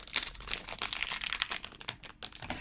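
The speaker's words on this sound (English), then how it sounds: "just unfolding it." Plastic packaging crinkles and rustles as it is unfolded for a slime robot toy, a quiet, continuous, close-up crackle with no voices.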